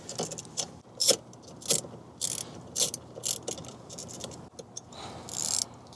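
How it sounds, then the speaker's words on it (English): An 8mm socket wrench ratchets a bolt loose on a Ford F450 during a cabin air filter change, giving bursts of quick clicking at a close, moderate level, with short pauses between the turns. "this is where you'll need the 8mm socket wrench to just take that out"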